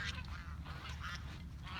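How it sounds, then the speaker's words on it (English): Geese honk in a loose, chattering flock at a middle distance, repeated calls overlapping against a steady low rumble of background noise, with no voices heard. "And then we've got the goose brigade."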